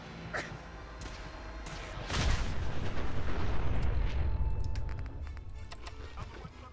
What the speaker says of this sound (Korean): 터진다.